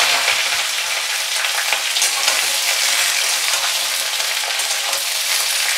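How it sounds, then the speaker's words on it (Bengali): Pointed gourd pieces fry in a pan with cardamom, cinnamon and cloves for potol pulao, giving a loud, dense, continuous sizzle close by, with faint stirring and no voices. "পটলগুলো একটু ভাজা ভাজা করব।"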